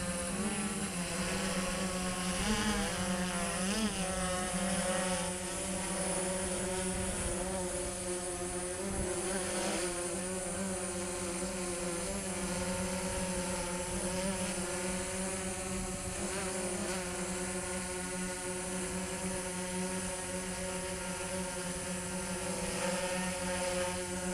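A DJI S900 multirotor drone hovers and maneuvers indoors at an arena, its propellers giving a continuous buzzing whine with shifting tones as it moves, steady and fairly close throughout.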